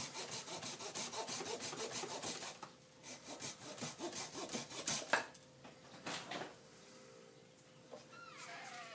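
A hand saw cuts an L-shaped chunk out of a bonsai trunk, giving steady rhythmic rasping strokes up close for the first few seconds, then a few scattered, quieter strokes and scrapes.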